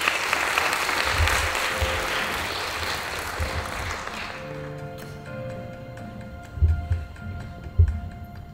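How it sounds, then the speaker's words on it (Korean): Audience applause at a museum academic event in Korea, a dense round of clapping that fades after a few seconds, leaving sparse scattered claps and a low room hum. "박수로 맞아주시기 바랍니다."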